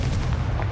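A Confringo spell blast in Hogwarts Legacy, a loud, close, rumbling explosion with a heavy low-end boom filling the short moment on its own.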